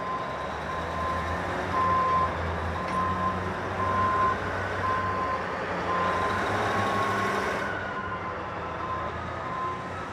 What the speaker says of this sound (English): I'm just waiting for the dump truck to show up